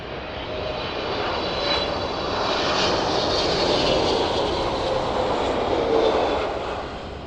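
A Boeing 777 arriving from Dubai touches down at East Midlands Airport. Its jet roar stays loud and steady across the runway, holding a broad rushing tone with no voices.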